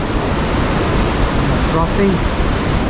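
Broad, steady roar of a snow-fed river rushing below a suspension bridge on a mountain trek, loud and continuous throughout, with a brief voice speaking over it.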